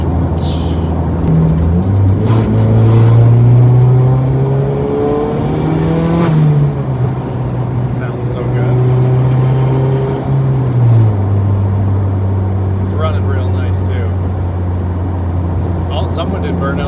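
Turbocharged Honda Civic engine pulls hard and rises into boost, its tone climbing and holding steady close up for most of the stretch, with people talking over it.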